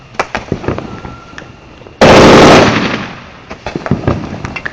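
A 49-shot firework cake bursts outdoors with a loud sudden crackling volley of rapid pops, after which scattered distant bangs and crackles continue.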